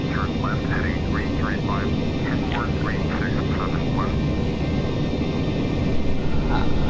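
Jet airliner engines roar steadily during a takeoff run in Flight Simulator X, a broad continuous rumble filling the whole clip while chirpy birdlike tones flicker above it.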